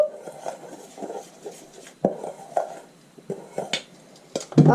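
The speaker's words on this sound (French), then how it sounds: "On mélange." A spoon stirs a pinch of food coloring into jalebi batter in a bowl, making intermittent scraping and clinking strokes, fairly close and soft, with brief louder knocks toward the end.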